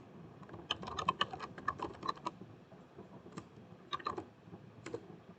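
A folder name is typed on a computer keyboard in quick bursts of crisp key clicks, a cluster early on, a pause, then a few more strokes, close and fairly quiet.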